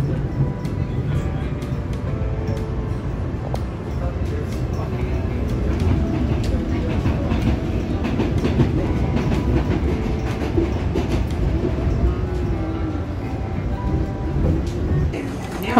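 An old subway train runs along the tracks, a loud steady rumble with rhythmic clickety-clack of wheels and rattling carriage noise throughout.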